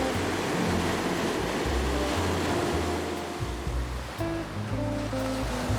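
Ocean waves wash onto a white sand beach in Oman, a steady, full roar of surf with rolling swells and no voices.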